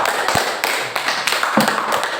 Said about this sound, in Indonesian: aplaus untuk kelompok audio